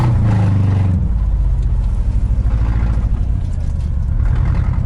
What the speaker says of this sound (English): this is literally full throttle